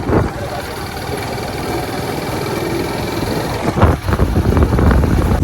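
A motorbike engine runs steadily close by, a loud rumbling drone with a brief bump midway, and talk mixes in faintly.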